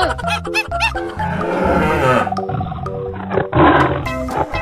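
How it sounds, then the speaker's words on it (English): A tiger roars loudly in a cartoon animal-transformation setting, a growling rumble lasting several seconds amid bright musical tones and playful sound effects, with a short burst near the end. "Tiger."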